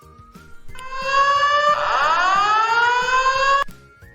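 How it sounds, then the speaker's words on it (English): A fire alarm siren wails for about three seconds, its loud tone sweeping and rising before cutting off abruptly, with a faint rhythmic thumping underneath. "Pull manual fire alarm."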